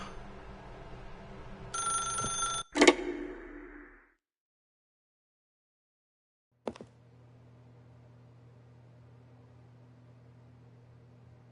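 A telephone gives one short, bright ring, followed by several seconds of silence. A sharp click follows, like a handset being lifted, and then a low, steady hum.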